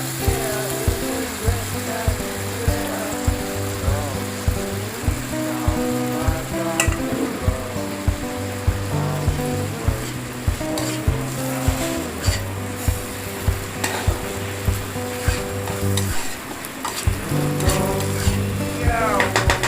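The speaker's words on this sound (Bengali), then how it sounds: "আমি চালটা দিয়ে দিচ্ছি ভালো করে চালের সাথে মেখে নেব মশলাটাকে আর চালটা যাতে ভাজা ভাজা হয়ে যায় তাই বেশ খানিক্ষণ ধরে কষে নেবো" Rice sizzles steadily in a pan as it fries with spices for muri ghonto. Close, rhythmic scraping and clattering from stirring repeats throughout the continuous frying hiss.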